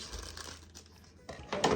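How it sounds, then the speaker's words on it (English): Scissors slicing open plastic packaging in a home kitchen, giving brief crinkling and tearing rustles close by, with a louder burst of crackling at the end and no talk. "Scissors, please work for me today."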